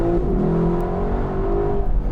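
A Lexus LC500 V8 in Sport Plus mode pulls away hard from a standstill without launch control, its engine droning loud and close in a steady rising roar heard from inside the cabin.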